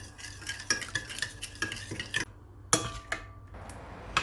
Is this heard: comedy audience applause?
no